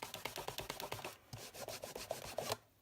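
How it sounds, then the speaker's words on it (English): Card-making tools being scrubbed clean, a brisk rhythmic rubbing of about a dozen back-and-forth strokes, close and fairly quiet, with a brief pause midway and no talk. "I'm going to give those a little scrub"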